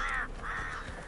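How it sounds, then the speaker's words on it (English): A flock of crows caws twice in a row, two harsh drawn-out calls with a short gap between them, fairly close and clear against a quiet background. "a flock of crows."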